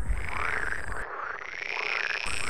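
Frogs croak in rapid rising and falling trills, loud and close, with a brief cut partway through before the chorus returns.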